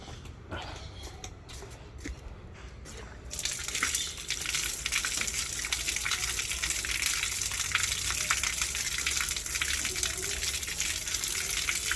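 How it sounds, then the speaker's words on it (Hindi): Ripe gooseberries being washed in water. Quiet handling noises come first, then a steady, close gush of running water that carries on to the end. "इसको भी धोएंगे पानी में, फिर खाएंगे पीएंगे।"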